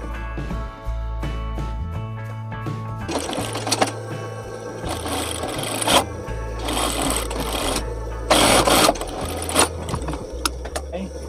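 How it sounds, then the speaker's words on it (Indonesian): A sewing machine stitches the pocket lining of a round-collared gamis dress from the inside, running in repeated close bursts of rapid whirring with short pauses, and a voice talks in between. "kita jahit begini dari sisi dalam dengan jarak 1 sepatu"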